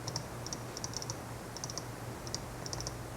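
A computer mouse clicks repeatedly while letters are selected in Word, quick soft double and triple clicks in small irregular clusters against a quiet room hum.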